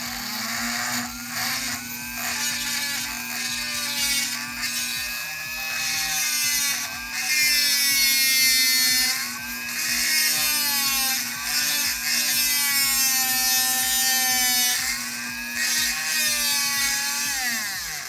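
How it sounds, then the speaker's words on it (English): Power drill boring slowly into a 3D printed plastic part, a whining motor with a pitch that rises and sags as pressure changes, joined by scratchy grinding bursts over about eighteen seconds. "I don't know if it's actually drilling"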